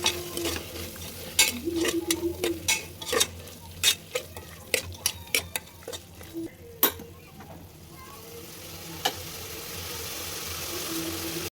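A tomato mixture with garam masala and pulao powder is stirred in a pan, with sharp spoon scrapes and knocks against a soft sizzle, close. The stirring thins out later and a low background hum remains.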